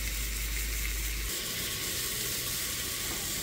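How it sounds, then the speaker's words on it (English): Spiced beef with cinnamon, paprika and mint frying in a pan at a campsite: a loud, dense, continuous sizzle close up, with no voices. "I add the spiced beef and fry it up in the pan"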